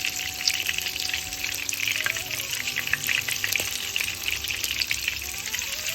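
Coconut shrimp fritters frying in hot oil and being turned, a steady close sizzle with bubbling crackles and a few soft clinks, no talk.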